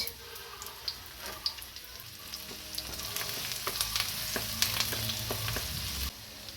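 Steady crackling sizzle of onions frying in hot oil in a wok, with soft scraping and clicking from stirring throughout, close and fairly quiet.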